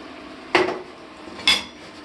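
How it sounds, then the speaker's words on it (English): Two distinct metallic clinks about a second apart as a lid is set onto a pot of lamb stew with peas and potatoes, close and fairly crisp against a quiet background. "Put the lid on it."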